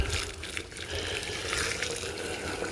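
Hot water poured steadily through a funnel to filter a gold-recovery solution, a continuous close wash of liquid splashing and trickling for the whole stretch with no talk.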